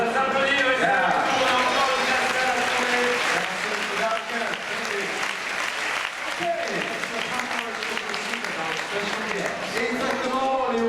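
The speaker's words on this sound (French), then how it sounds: "Allez, ça s'applaudit" Applause from the crowd at the Moteur, Action stunt show at Disneyland Paris, sustained clapping and cheering over roughly eleven seconds, with an announcer's voice and music carrying over it.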